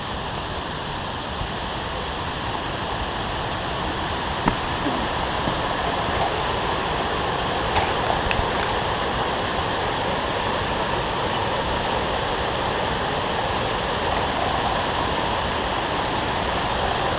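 A loud waterfall roars steadily and fully throughout, a dense unbroken rush of water with no voices.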